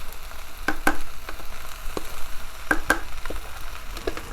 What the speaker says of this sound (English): We're gonna add the rice, okay. This is brown jasmine rice